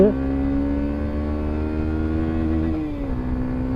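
A Honda CB 125 F motorcycle engine holds a steady, loud, close drone as it accelerates during a top-speed run, its pitch briefly dipping and recovering as if through a gear change, with no talking.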